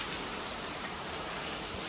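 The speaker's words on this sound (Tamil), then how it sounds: "வெறித்தனமா பெய்யுது, ஒண்ணுமே தெரியல." Heavy rain pours down steadily outside a cruise ship room, a dense, continuous hiss of drops striking surfaces, loud and unbroken with no voices.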